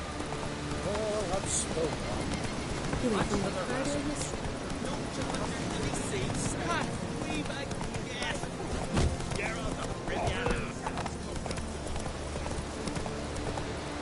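Hooves of a horse clip-clopping at a run in a video game, quick rhythmic beats that continue throughout, heard under ongoing game sounds and a voice speaking.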